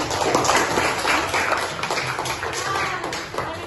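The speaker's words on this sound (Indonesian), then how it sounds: "Berikan aplaus untuk dengannya" Classroom applause for a group of students during a zero-waste lesson, a dense burst of many hands clapping close and steady, loud and continuous with voices mixed in.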